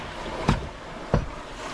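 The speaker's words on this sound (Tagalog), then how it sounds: "Yan na, ang alon." Sea waves wash around a Filipino bangka boat under a steady roar of water and wind, with two distinct slapping surges of water striking the hull about half a second apart.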